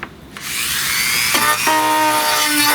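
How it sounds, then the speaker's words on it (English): Craftsman rotary tool, Dremel-style, smoothing the inside of a wooden part for a small table loom, a loud close high-pitched whine that rises in pitch as it spins up, then grinds steadily against the wood. "Get out the Dremel, actually the Craftsman rotary tool, it's a Dremel."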